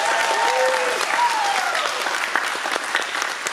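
Steady audience applause fills a research day award ceremony as a 2024 recipient is announced, dense sustained clapping from a crowd with faint voices threaded through at the start.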